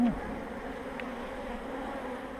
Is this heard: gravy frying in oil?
no